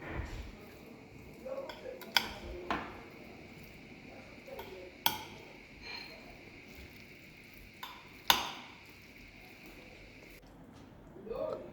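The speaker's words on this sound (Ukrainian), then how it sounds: "Ретельно все це перемішуємо." Salad of chicken hearts, pickles and eggs with mayonnaise is stirred in a bowl, giving soft wet squelching and sharp spoon-on-bowl clinks at irregular intervals, some fairly loud.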